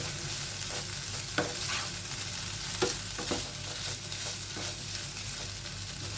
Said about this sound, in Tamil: கலந்து விட்டுக்கோங்க. நம்ம பொட்டேட்டோலாம் நல்லா வெந்துச்சு.